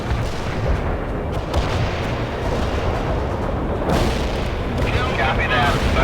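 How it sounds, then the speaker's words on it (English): Artillery shells striking targets in the World in Conflict strategy game, dense continuous booming and rumbling impacts throughout, with radio-style voices talking over the barrage. "A perfect artillery hit."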